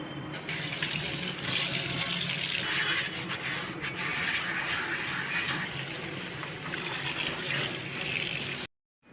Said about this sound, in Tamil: இப்போ நம்ம ஆப்பசட்டியையும் கழுவிப்போம்